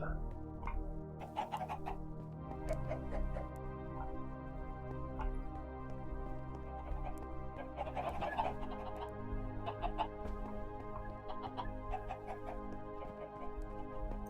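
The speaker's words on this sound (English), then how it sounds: "Chickens on the roof." Chickens cluck in Minecraft, scattered short clucks over a steady low background hum, fairly faint and with no talk.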